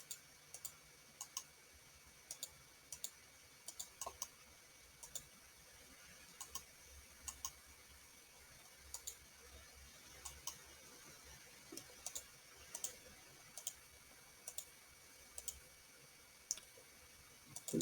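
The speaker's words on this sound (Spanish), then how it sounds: "se le da doble clic derecho," Computer mouse clicks, faint and close, coming as sparse single and double taps at irregular intervals over a quiet background, with no talking.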